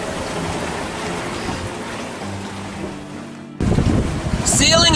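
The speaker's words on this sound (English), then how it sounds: "Sailing in these conditions, sporty, sustained over 20, 2 meter waves" A sailboat in open ocean with sustained winds over 20 knots and two-meter waves: steady rushing wind and water noise, then a loud crash of spray and buffeting gusts in the final seconds.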